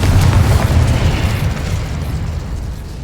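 A Confringo blasting spell from the Hogwarts Legacy video game goes off with a loud, deep explosive boom, its low rumble holding steady for a few seconds before fading slightly, with no talk over it.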